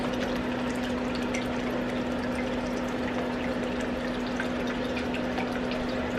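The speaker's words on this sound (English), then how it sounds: "I'll put this end in the water and fill my hose up" Water rushes steadily into the end of a garden hose held under water, a continuous close pouring and gurgling wash with a constant mechanical hum underneath, no talking.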